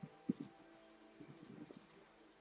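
Computer mouse clicks made while working in Houdini software: a sharp click near the start, then a short cluster of quick, light clicks about a second later, close and quiet with no talking.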